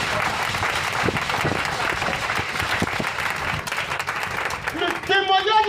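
A church congregation applauds Jesus during an evening worship service, with sustained clapping and crowd noise carried under a loud voice. A brief musical phrase swells in near the end.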